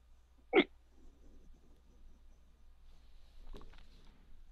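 One sharp hiccup from someone, then a softer second one a few seconds later, both faint against a quiet room with low background noise.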